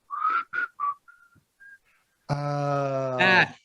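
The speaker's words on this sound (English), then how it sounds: "It's the whistle slowed down." A few short whistled notes, then a long slowed-down whistled tone, deep and drawn out with rich harmonics, rising in pitch at the end.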